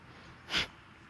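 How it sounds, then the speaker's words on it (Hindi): A single sharp, forceful nasal exhalation of kapalbhati yoga breathing, short and close in an otherwise quiet room. "श्वास बाहर निकलेगा, सीधा साधा"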